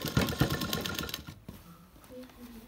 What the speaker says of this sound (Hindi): अब हम सिलाई लगाने जा रहे हैं